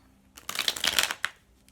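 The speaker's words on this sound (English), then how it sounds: "So let's set our intentions again with this shuffle." A tarot card deck is shuffled in one quick riffle, a crisp flurry of flicking card edges lasting under a second, then a final soft snap.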